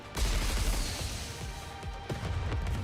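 Bursts of gunfire in the NIKKE video game, dense and loud, with sharp impacts and booming hits crowding together in a rapid, chaotic volley.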